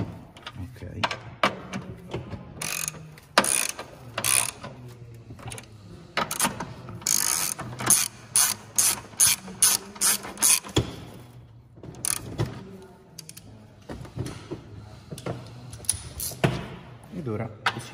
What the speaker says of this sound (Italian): Ora andremo ad accostare i bulloni prima di poterli tirare con la dinamometrica.